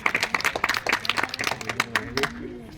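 Audience applause for someone speaker at a Lok Sabha election campaign gathering in East Delhi, a burst of scattered clapping with voices mixed in that thins out toward the end.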